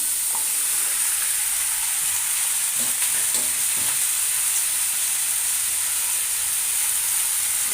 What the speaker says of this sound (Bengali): এবার দিয়ে দেবো বেগুনগুলো